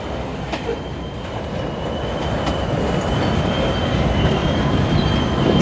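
CSX freight train slowing to a stop at Goldsboro, North Carolina, a loud close rumble of rolling railcars with faint wheel squeal and creaks, growing slightly heavier toward the end.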